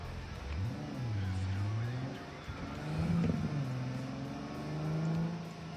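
A car drives along, its engine droning steadily while the pitch swells and dips as it speeds up and eases off, heard from close by with a low rumble underneath.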